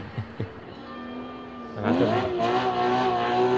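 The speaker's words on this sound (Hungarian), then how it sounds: "Na, ő leégeti a gumit, meg a kuplungot." A Porsche Cayman GT4 launches with wheelspin and a slipping clutch: an engine idles, then rises into a sustained, climbing rev with tire noise, heard at moderate distance.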